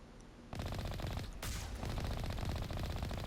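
Sustained automatic gunfire from the video game Mass Effect, a dense rapid burst that kicks in loud after a half-second lull and keeps rattling steadily to the end with a brief sharp flare in the middle.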